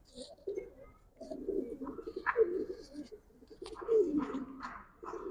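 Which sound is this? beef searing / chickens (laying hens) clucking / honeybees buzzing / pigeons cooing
pigeons cooing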